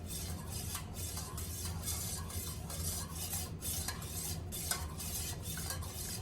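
Melted candle wax for a beach-themed candle is stirred without pause in a pot, a quiet, steady scraping swirl with regular rhythmic strokes and a faint sizzle beneath.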